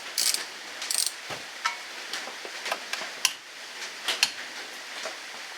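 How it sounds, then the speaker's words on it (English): A ratchet with a long extension, adapter and small 3/8 drive socket works on a Chevrolet Malibu front wheel bearing, giving short bursts of quick mechanical clicks with pauses between strokes, close and fairly quiet. "Now I'm using a little bit of a longer extension here with a small 3/8 drive socket and an adapter"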